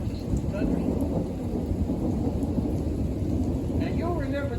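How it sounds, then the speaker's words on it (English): An evening thunderstorm rumbles with continuous heavy thunder and steady rain, loud and close, while a few faint voices murmur beneath the roar. "Came here to watch the Thunderstorm"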